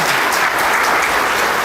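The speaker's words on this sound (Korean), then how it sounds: "시장님께 다시 한번 큰 박수 부탁드립니다" Loud, dense applause from a gathering of municipal staff at a town-hall style talk with the city mayor, a continuous close wash of many hands clapping.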